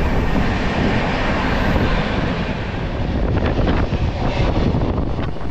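A non-stop express train racing at about 127–130 km/h, heard as a dense, continuous roar of wind and rolling wheels, loud and unbroken throughout.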